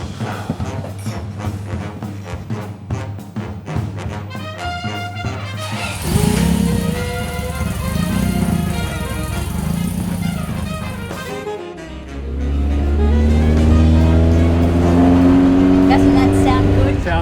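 A post-war vintage MG sports car engine settles at a steady idle, then the revs climb hard and loud, its rising growl close and filling the last few seconds.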